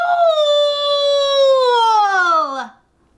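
A man on all fours in a video game lets out one long, loud howl that slowly falls in pitch and cuts off sharply after about two and a half seconds. The howl is a human voice imitating a dog.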